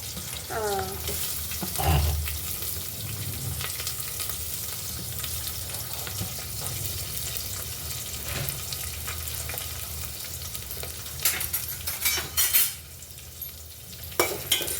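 Steady sizzling of onions frying in a pan, with occasional stirring scrapes and clinks, continuous and close throughout.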